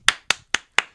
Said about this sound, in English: Clap for real.